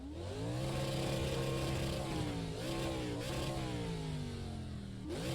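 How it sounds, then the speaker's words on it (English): A race car engine in iRacing's Gen 4 simulation revs hard and steadily, its loud buzzing tone climbing and dipping slightly over about five seconds before a brief drop and renewed rise. "So let's fully rev this."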